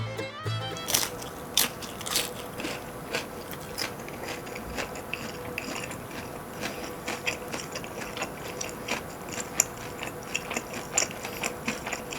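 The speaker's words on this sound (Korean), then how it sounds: "바로 그냥 파전부터 먹어보도록 하겠습니다 간장에 찍어서" Crisp pajeon dipped in soy sauce is chewed up close, giving repeated soft crunches and bites in an uneven rhythm, quiet and without talking.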